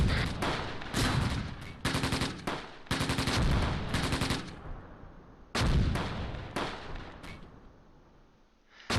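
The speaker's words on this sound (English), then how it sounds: "Is the tank shooting at us?" Gunfire in the WWII strategy game Close Combat, set near Caen at Mue in June 1944, heard as loud repeated bursts of rapid shots separated by short pauses, with no voices.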